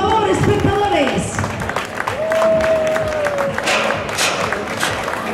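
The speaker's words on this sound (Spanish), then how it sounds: "Más aplausos, por favor," Crowd at a popular cross-country race in Balmaseda claps and cheers steadily, a continuous rough wash of applause with a voice talking over it throughout.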